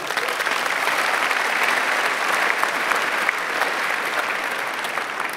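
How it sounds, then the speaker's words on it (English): Steady, dense applause from a livestreamed pitch-competition audience fills the room at an even, fairly loud level for several seconds, with no talking. "Round of applause for both."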